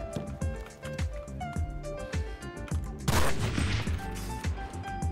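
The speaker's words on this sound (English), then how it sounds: "That was a bad first shot." Several sharp gunshots in a video game, mixed with a busy music-like background and a denser burst of fire midway, fairly loud and close.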